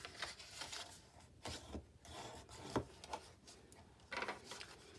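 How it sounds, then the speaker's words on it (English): A tool burnishes score lines on paper for an Easter treat box, making faint, soft rubbing strokes in short irregular passes with quiet gaps between them. "So we're going to burnish all of our score lines"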